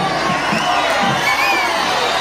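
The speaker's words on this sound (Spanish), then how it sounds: "Ahora un aplauso, por favor, un aplauso." An audience at the grand final of a Huaylash dance contest claps and cheers in one continuous, loud wash of crowd noise with shouts and whoops, steady throughout.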